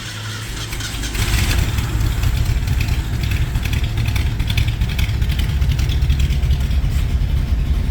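A Ford F100 pickup truck engine with shortened glass pack exhaust starts and settles into a steady, loud, deep idle rumble that continues unbroken, with no voices over it.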